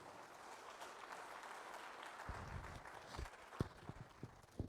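A church congregation applauds faintly, a soft wash of clapping that thickens into scattered, sharper claps near the end.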